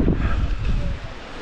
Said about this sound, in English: It's so cold and windy up here.